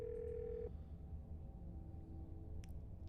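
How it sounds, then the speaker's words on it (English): A phone line in the game Scarlet Hollow gives one steady electronic ring tone lasting well under a second, then drops into a faint, hissy open-line background with a couple of small clicks. "The phone rings."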